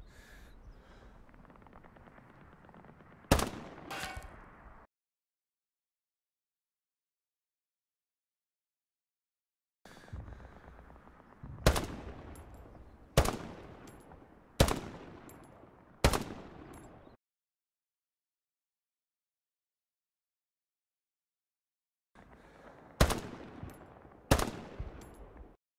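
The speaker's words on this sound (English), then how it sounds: "the SVT is a damn good semi-automatic rifle in Hell Let Loose" Semi-automatic fire from an SVT-40 rifle in the World War II shooter Hell Let Loose: three groups of sharp, loud single shots, two to four per group, with distant battle ambience under them and silent gaps between.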